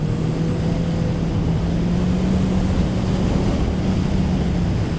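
A Honda CB650F motorcycle engine pulls in fourth gear, a loud steady drone with a sustained low tone and heavy wind rush over the microphone, no talking.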